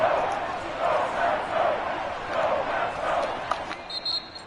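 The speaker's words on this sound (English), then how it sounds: "The crowd getting into it as we come up on a big 3rd" Crowd cheering at a Packers football game in a large stadium, a steady roar that pulses and swells in waves, with a few sharp spikes near the end.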